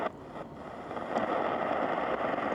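A Raddy RF919 shortwave radio gives rushing static while it is tuned across frequencies. The hiss swells and shifts, with a couple of faint clicks, and no one speaks.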